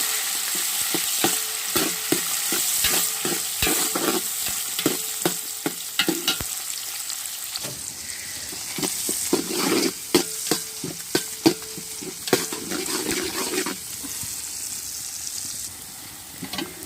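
Onions, tomatoes and green chilies sauté in a pan, a continuous sizzle broken by frequent scraping and clinking of a stirring spoon, close and steady with no voices.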